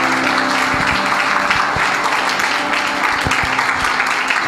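Applause rings out from a church congregation praising the Lord, dense sustained clapping with scattered louder claps over a low hum, continuing steadily for the whole stretch.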